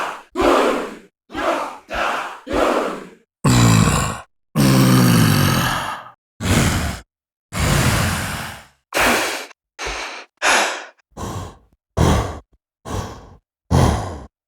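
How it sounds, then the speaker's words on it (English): Aggressive male breaths and growls from a Berserkr Pro vocal sample library, a string of loud, close bursts of heavy exhales, grunts and shouted snarls separated by short silences, some long and roaring, others short and clipped. "Breaths and growls range from shouting,"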